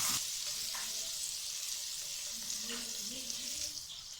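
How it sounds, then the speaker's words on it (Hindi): Bell peppers (capsicum) frying in oil in a pan for Singaporean rice, a steady soft sizzle with faint stirring clinks, fairly quiet and close, no talk. "ये शिमला मिर्च जो है ये हमारी हो गई है फ्राई।"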